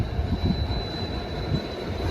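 A train rumbles steadily, deep and continuous, with a thin high whine running underneath throughout.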